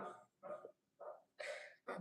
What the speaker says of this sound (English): My dog is laughing